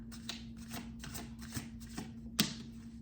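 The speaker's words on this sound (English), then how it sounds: "Let me get one more card to make it 3." Tarot cards being shuffled and drawn close up, a run of crisp riffling bursts at a regular pace ending in a sharper snap as a card is pulled, with no talking.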